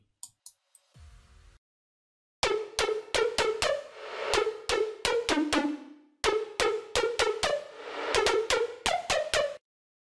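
Electronic drop melody built from short plucky synth stabs in a rhythmic pattern, with reverb throws automated on the wet knob so some hits bloom into a wash, preceded by a brief faint swell.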